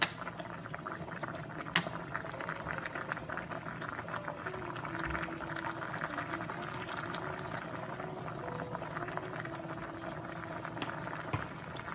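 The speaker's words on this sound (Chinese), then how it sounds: "用这样的水来煮面" Noodles bubbling in a pot of water used for blanching carrot and celery, a soft steady simmer with light clinks of utensils and an occasional sharp metallic tap, quiet and close.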